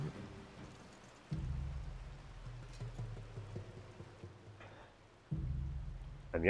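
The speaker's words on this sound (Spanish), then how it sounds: "Ya estaba lloviendo todo el rato," Steady rain patter in the video game Rome: Total War Remastered runs throughout, with bursts of low rumbling noise cutting in and out, heavy and continuous with no voices.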